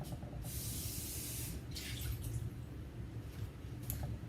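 Tap water sprays and splashes into an empty metal bean can being rinsed out, a soft hissing gush close by with a few brief spurts, fairly quiet and with no talking.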